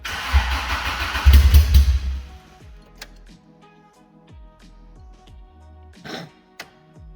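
A car engine starts while the car is tilted on its side, a loud burst of noise cutting off after two seconds, followed by quiet ticking, clicking and a few faint mechanical knocks.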